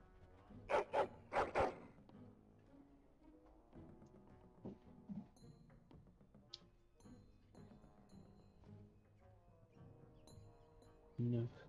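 In the video game Dragon Age: Origins, a dog lets out a few loud, quick barks near the start, followed by quieter game ambience and scattered soft sounds, with another brief loud burst at the end.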